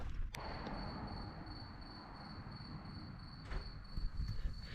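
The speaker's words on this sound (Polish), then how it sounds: "Co to świerszcze czy co?" A steady high-pitched cricket trill runs throughout on a quiet night in a park, joined by a low rumble and faint rustling movement nearby.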